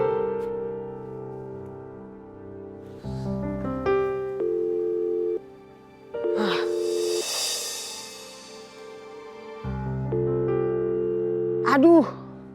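Phone ringback tone of an unanswered call, repeated steady electronic tones with gaps, alongside other overlapping tonal sounds and brief vocal noises.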